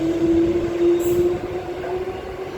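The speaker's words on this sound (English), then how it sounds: "Train's arriving." An electric suburban passenger train pulls into a Perth line station platform, a loud steady rumble with a sustained tonal hum and rolling wheel noise, heard alone.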